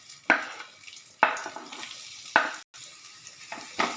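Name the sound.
onions frying in hot oil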